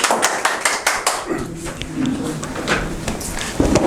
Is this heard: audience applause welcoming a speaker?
yes